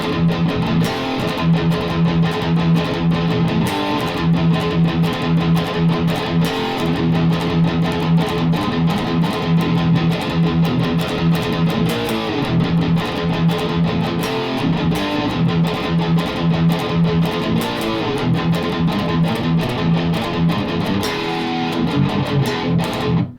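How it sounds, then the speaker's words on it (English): A distorted electric guitar plays a fast galloping metal riff with alternate picking, tight chugging triplet rhythms on low muted strings broken by higher accents, loud and driving throughout with no voices. "doing a technique that I call galloping"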